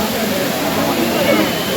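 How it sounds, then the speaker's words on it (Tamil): Water at the Courtallam waterfall pours down in a continuous loud roar, heard close and alone. "நீர்வீழ்ச்சியோட அழகே அந்த வீழ்ச்சியில் நமக்கு கிடைக்கிற மகிழ்ச்சி தான்."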